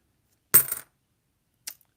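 Coins drop onto a hard surface: one short, bright metallic clatter, then a fainter, briefer jingle about a second later, with silence between.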